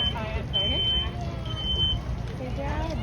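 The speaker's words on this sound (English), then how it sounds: "There's our smoke detector, you're starting to hear it." A high-pitched smoke alarm chirps in two bursts over a steady low rumble and background voices, sounding from some distance during a fire sprinkler demonstration with a burning room at a fire expo.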